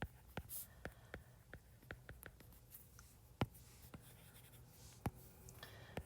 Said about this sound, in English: So let's just write that down.